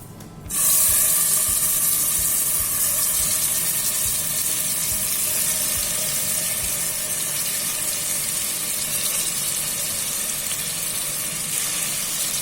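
Chicken pieces hit hot oil in a pan for a pepper chicken curry, bursting into a loud, even, close sizzle that starts abruptly and holds steady without pause.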